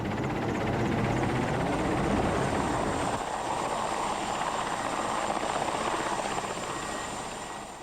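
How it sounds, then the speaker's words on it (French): A converted Cuban army helicopter, now used for tourist flights to the cays, flies close by with a loud, steady rotor and engine drone that holds throughout. "On rejoint souvent les cayos dans des hélicoptères de l'armée cubaine reconvertis"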